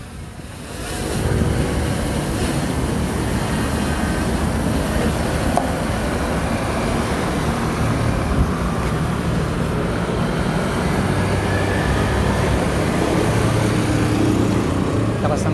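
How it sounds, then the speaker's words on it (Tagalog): Strong wind roaring during a drone flight over the Navotas landfill, a steady, loud broadband rush that holds from start to finish with no breaks. "Lakas ng hangin dito ah."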